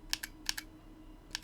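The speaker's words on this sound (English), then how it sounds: "joystick, hopefully you can hear that in the mic, it clicking." Joystick buttons on an arcade-style controller clicking while a Unity fighting game is tested, three quick pairs of sharp clicks separated by pauses, faint and close against a low hum.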